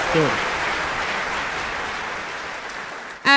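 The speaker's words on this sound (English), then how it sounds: "Give them a big round of applause." A conference audience claps in a sustained, even round of applause that slowly tapers off, and a voice briefly starts at the very end.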